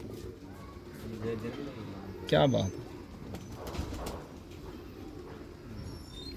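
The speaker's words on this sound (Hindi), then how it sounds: "117 तीन कबूतर लेके आए।" Pigeons cooing among a flock of highflying pigeons kept by a fancier, with low repeated coos running steadily beneath a man's brief spoken remark and other voices nearby.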